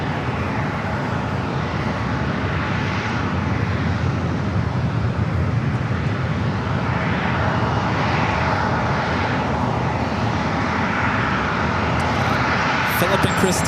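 A Lufthansa heavy jet departs San Diego airport, its engines producing a steady, loud, broadband roar throughout, with a voice talking over it.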